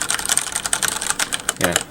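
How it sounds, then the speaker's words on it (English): Rapid, steady typing on a Razer Blackwidow Ultimate Stealth Edition mechanical keyboard, dense clicky keystrokes close up and fairly loud, with a faint voice briefly underneath near the end. "Standard typing will be louder than pretty much all average keyboards."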